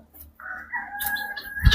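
A benki rooster crows on a village farm, a single drawn-out cock-a-doodle-doo at moderate distance and fairly faint, with no talk, ending in a short low thump.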